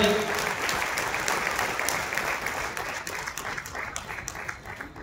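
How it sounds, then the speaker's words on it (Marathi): An audience at a meeting claps in a loud burst of dense applause that slowly thins and fades over a few seconds. "जोरदार टाळ्या व्हायला पाहिजे"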